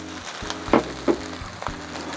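Fried tiny anchovies (teri nasi) tipped into sizzling nasi goreng with petai in a pan: two or three soft, dull drops and scrapes over a low, steady background sizzle.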